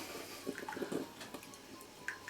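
A Gourmia K-cup compatible coffee maker drips after brewing, a few soft, faint plinks and trickles of liquid at irregular intervals in a quiet room, with no talking.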